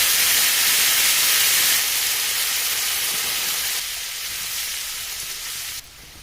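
Frozen peas sautéing in oil in a pan with mustard seeds, chana dal and urad dal, a steady loud sizzling hiss that softens in steps and drops suddenly near the end.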